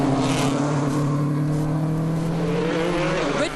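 Red Bull Skoda rally car on the Tour de Corse tarmac stage, driven flat out with a sustained high engine howl that climbs in pitch near the end, loud and close without any talk.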